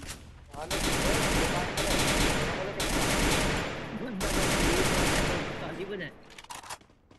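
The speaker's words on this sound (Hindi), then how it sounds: "नहीं ये बंदा बोले बिना फायरिंग कर रहा है यहां पे" Loud, close bursts of automatic gunfire from an enemy player in the Free Fire video game, coming in several long rattling volleys with brief gaps between them.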